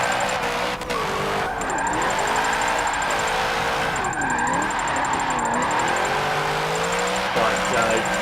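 A 1994 Nissan Silvia K's drift build with its twin turbos removed slides through a Forza Motorsport 7 race, its engine droning and sweeping in pitch with tire squeal running steadily throughout, under a talking voice.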